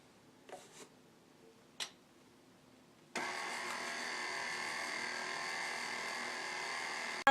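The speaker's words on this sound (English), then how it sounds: "And now I'll mix it till it's smooth." After a few light knocks, a mixer switches on and whirs steadily and loudly, beating a batter of two eggs and vanilla until smooth, with no talk.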